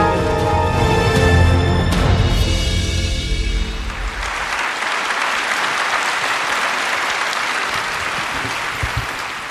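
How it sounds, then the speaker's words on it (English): A large audience at the SBS D Forum 2023 conference breaks into a big round of applause. Music plays first, then sustained clapping fills the hall. "with a big round of applause"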